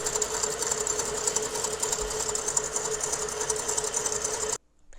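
An electric mixer beats egg whites, sugar and cream of tartar with a steady, even whine close by, then cuts off abruptly near the end.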